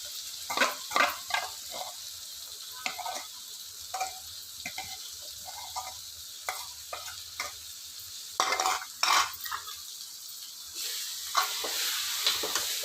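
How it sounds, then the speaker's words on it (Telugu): Masala and brinjal are stir-fried together in a pan, with repeated scraping stirs over a light, quiet sizzle, the strokes coming in irregular bursts close by. "బాగా మిక్సింగ్ అయ్యే వరకు వేయించాలి."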